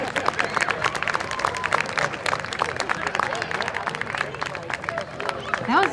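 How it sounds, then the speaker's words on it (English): Crowd applause after a performance at an interfaith music festival, dense clapping with some cheering and murmured voices mixed in, fairly loud and continuous. "Give them another round of applause."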